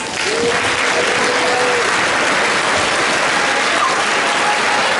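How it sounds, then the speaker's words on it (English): Sustained loud applause from an audience at a high school signing day event, steady dense clapping with a brief cheer near the start. "we're going to give you a round of applause."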